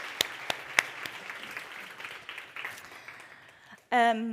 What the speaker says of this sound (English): A round of applause for our awardees from last year.